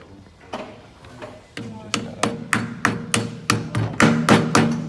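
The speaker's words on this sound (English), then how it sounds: "you're gonna use this hammer to hit it in the rim" Series of sharp metallic hammer taps driving a wheel weight onto a tire rim, speeding up and growing louder toward the end, close by, with faint background sound.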